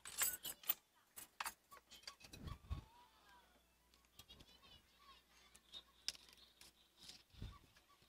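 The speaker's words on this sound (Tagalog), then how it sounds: "Tapos, nalaglag ang susi." Keys drop with a bright metallic jangle while a Gigabyte GeForce RTX 3080 graphics card is being opened, the clinks and rattles scattered in short bursts, fairly close and quiet, with soft handling noises between them.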